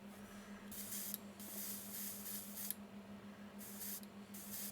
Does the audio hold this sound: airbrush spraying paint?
yes